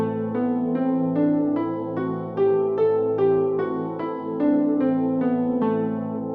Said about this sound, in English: And this Dorian scale sounds like this